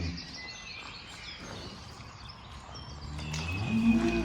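A cow moos inside a farm barn, a sustained lowing call rising near the end, with faint bird chirps and general barn ambience around it.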